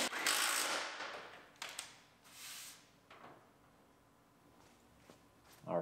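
A hand ratchet tightens fender bolts on a Pontiac Grand Am in a garage, giving close bursts of metallic clicking with short pauses and small knocks between them.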